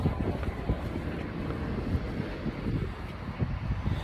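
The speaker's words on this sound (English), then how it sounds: "It's very windy." Heavy wind buffets the microphone in a constant low rumble with gusty thumps throughout, no voices, outdoors by a flatbed truck while tarps are removed.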